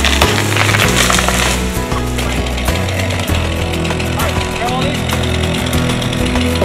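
A chainsaw cuts wood during a sheriff's office chainsaw training for deputies, its engine droning loud and steady throughout with slight dips in pitch as the blade bites.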